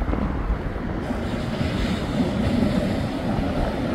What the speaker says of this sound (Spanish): ¿Sabes que se oye bien bonito el ruido del agua?